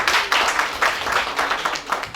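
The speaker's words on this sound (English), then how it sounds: "a round of applause for that" A small group at a training session on medicinal plant cultivation claps in a short burst, the individual hand claps distinct and close, rising and falling in uneven pulses without talk.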